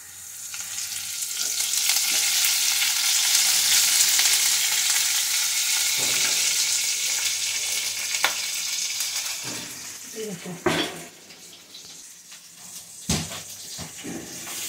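Cumin seeds and green chillies sizzle loudly in hot oil with fried potatoes during tempering for a Maharashtrian breakfast, a steady crackling hiss with a few sharp clinks of a spoon toward the end.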